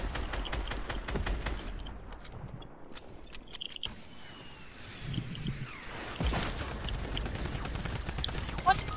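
Video game gunfire in Fortnite, squad match: scattered quick shots and short bursts, fairly quiet and mixed with game effects, with some louder cracks near the end.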